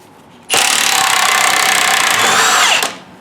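Impact wrench on a bolt securing the torque arm of a Camaro or Trans Am, one loud continuous whirring burst of about two seconds that starts abruptly and then trails off, with no talk.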